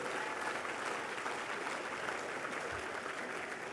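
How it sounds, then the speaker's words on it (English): Sustained, dense applause fills a banquet hall at a military appreciation dinner for Minnesota troops, a steady loud wash of many hands clapping throughout with no break. "Another round of applause for all of you"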